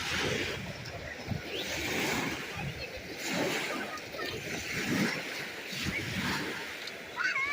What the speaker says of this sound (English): Oh, look it, we have waves.